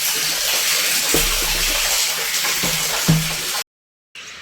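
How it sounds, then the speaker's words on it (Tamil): A steady rush of water pours and splashes into a drum, loud and continuous, then cuts off abruptly before resuming briefly. "பார்த்தீங்களா தண்ணி வருது."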